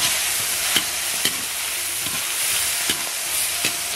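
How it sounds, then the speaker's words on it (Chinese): Aromatics and chili bean paste stir-fried in hot oil in a wok, a steady loud sizzle with intermittent scraping strokes of the spatula, close and alone with no voices. "油热，盐葱姜爆香， 来点豆瓣酱，"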